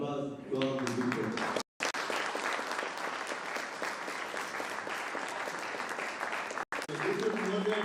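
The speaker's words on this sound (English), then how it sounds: "one more round of applause to all the people" Conference audience applause breaks out loudly and continues as sustained dense clapping, with a brief voice at the start and end and two short cuts of silence.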